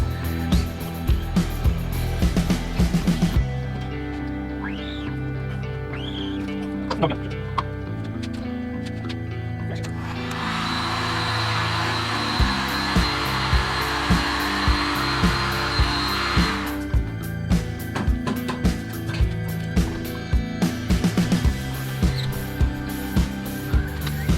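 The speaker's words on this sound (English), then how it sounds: "I'm gonna use my heat gun since I'm gonna be doing it just a test print." A loud, steady blowing hiss of a heat gun, used to cure a test print, runs for several seconds in the middle, with clicks and handling noises before and after.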